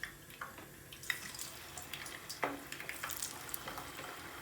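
Cornstarch-coated shrimp frying in hot oil, a faint, quiet sizzle with soft scattered pops and crackles, close by and without talk.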